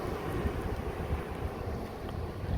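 Strong wind buffets the microphone on Main Street in Camp Verde, Arizona, a continuous low roaring rumble with gusty swells, loud and steady with no talk over it.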